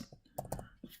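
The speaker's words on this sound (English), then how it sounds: "I can type in the criteria less 400" Keystrokes on a computer keyboard as search criteria are entered, several separate clicks clustered in quick bursts across one second, close and fairly quiet, with no voice.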